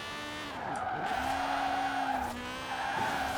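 Tires squeal in a sustained drift of a rear-biased, powerful car on a touge mountain road in Forza Horizon 4, a long wavering screech over engine drone with a brief break partway through.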